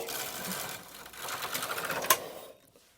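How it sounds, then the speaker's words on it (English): Silver Reed punchcard knitting machine carriage knitting a row of stockinette, a rapid rattling mechanical clatter that builds, ends with a sharp click and then drops to quiet. "set the knit carriage to stockinette again, leave that side lever at 0 and knit the next row"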